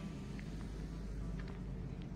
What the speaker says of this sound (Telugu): అది వెనక బస్సు వెళ్తుంది కదా